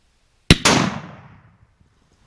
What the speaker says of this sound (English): As soon as he moved his head, I took my shot.